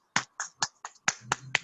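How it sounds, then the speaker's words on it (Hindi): A lone person claps for a presenter during a business plan session, about seven sharp, separate hand claps close to the microphone in a loose rhythm, with no talking over them. "अंकुर सर, आपके लिए तालियां बजा रहा हूँ।"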